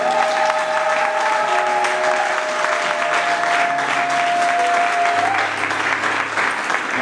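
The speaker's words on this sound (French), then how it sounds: "on peut acclamer pour le Seigneur" A church congregation applauding and cheering at a pastor's consecration, with dense continuous clapping throughout, sustained cries and a held musical tone underneath.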